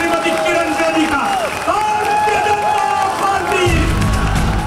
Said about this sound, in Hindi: एक बार जोरदार तालियों के साथ आप स्वागत करिए